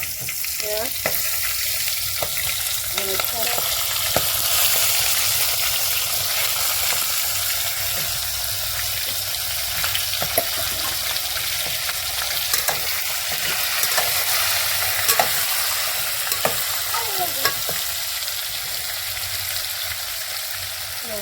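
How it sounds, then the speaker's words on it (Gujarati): Continuous loud sizzling of whole spice-stuffed eggplants frying in hot oil, with occasional stirring clinks and crackles throughout. "આ રીંગણાને કડક તેલમાં ચડવા દેવાના છે"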